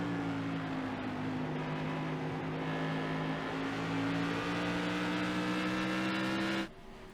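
Race cars run at Five Flags Speedway, with a steady, droning engine note heard from a roof camera that holds for several seconds and then cuts off abruptly near the end.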